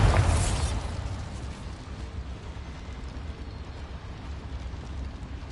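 A Bombarda blasting spell detonates in Hogwarts Legacy inside a small mine: a loud burst at the start that decays into a long rumbling, crackling tail of settling debris.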